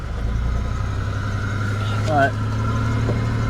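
An abandoned 1980s Pontiac Firebird's engine runs at a rough, steady idle close by, a low uneven rumble throughout with a brief rev, while a person speaks over it.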